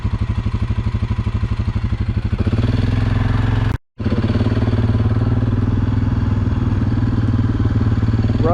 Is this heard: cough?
no